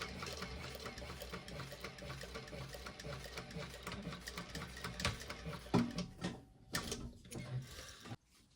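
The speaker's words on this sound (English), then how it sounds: "I'm going to back stitch at the beginning and end." A sewing machine stitching a thick handbag strap, back-stitching at the start and end: continuous close mechanical whirring and ticking, with a few louder knocks and clunks toward the end.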